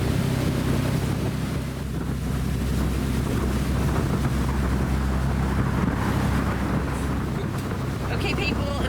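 A boat runs through ocean swell off Stuart Island in Canada, with a constant loud roar of wind and engine rumble mixed with rushing water, steady and close throughout.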